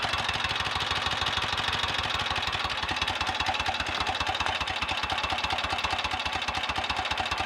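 A 1930 Royal Enfield 1000cc Model K motorcycle, freshly rebuilt, idles steadily close by with a rapid, even thumping beat and mechanical clatter, running alone without speech.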